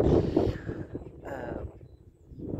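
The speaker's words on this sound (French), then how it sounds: "Il y a beaucoup de vent aujourd'hui." Strong outdoor wind buffets the microphone on a sunny, cold day, with low rumbling gusts that swell and fade throughout, loudest at the start and again at the end.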